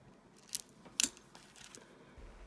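Scissors snipping through a necklace cord above a knot while making a tribal-style necklace, two quick close metallic snips in an otherwise quiet space, no voices.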